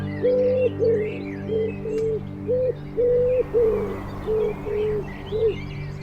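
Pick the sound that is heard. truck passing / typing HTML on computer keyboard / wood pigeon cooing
wood pigeon cooing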